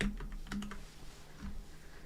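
Quiet, close computer keyboard typing: a few quick soft keystrokes in a short cluster, then a pause and another faint tap, with no talking.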